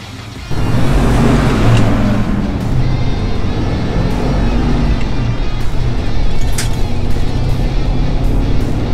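A Ford Bronco cruises down the road at steady speed, with constant engine and tire roar filling the cabin, punctuated by a few faint clicks and rattles.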